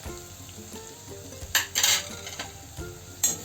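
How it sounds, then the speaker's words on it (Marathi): Onions with turmeric stirred in a pan sizzle softly and steadily, with a metal spoon scraping and clinking against the pan in several sharp bursts over the frying hiss. "हळद मिक्स करून घ्यायची"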